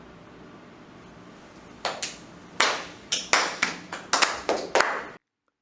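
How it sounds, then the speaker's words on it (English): A small audience gives a lukewarm round of applause: about a dozen sparse, separate hand claps in uneven bursts, fairly close, then sudden silence. "Mukund received a less than enthusiastic round of applause from his audience"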